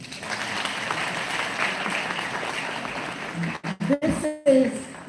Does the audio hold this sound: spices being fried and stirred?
no